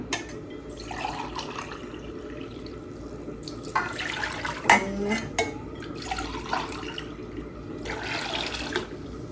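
Water pours and splashes into a container in uneven bursts while cooking, two vessels' worth added to sautéed food, with a sharp clatter partway through, fairly quiet and no talking.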